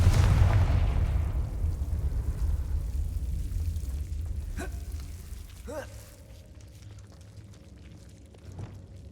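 A Confringo blasting spell in Hogwarts Legacy sets off one loud, close boom at the start, whose rumble fades slowly over several seconds while a few faint chimes and whooshes follow.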